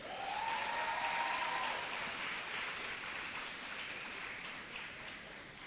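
Sustained audience applause at a student awards ceremony, a dense, even clatter of many hands that holds steady throughout, with a brief tone sounding near the start.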